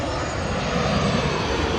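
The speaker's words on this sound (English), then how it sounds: "here we have a business jet arriving" A business jet arriving to land at Corfu Airport on runway 34 roars loudly and steadily, its broad engine rush filling the air as it passes close by.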